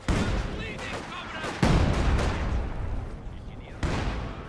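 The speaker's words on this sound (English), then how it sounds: "Here an AT gun firing at the flak half-track" In a World War II strategy video game, an anti-tank gun fires on a flak half-track, its heavy booms punching through a continuous rumble of battle, with sharper blasts standing out near the middle and end.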